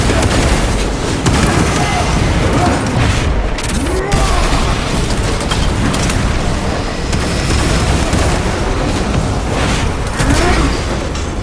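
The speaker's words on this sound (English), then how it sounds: "Frag grenade deployed!" A frag grenade blast in the Warhammer 40K Space Marine 2 video game, set in a dense, loud battle mix of booms and rumbling that runs the whole time with no clear pause.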